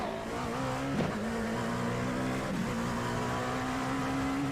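A Dallara P217 LMP2 race car in iRacing, heard on board at Le Mans, holds a steady high engine drone with brief dips at gear shifts, near and continuous, alone without talk.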